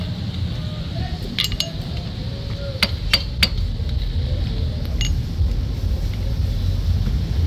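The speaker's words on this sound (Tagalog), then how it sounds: "So pupukpukin natin yung lock washer." Hammer tapping a lock washer on a Yamaha Sniper 150 motorcycle clutch, a handful of sharp metallic clinks in a loose cluster over a steady low workshop hum.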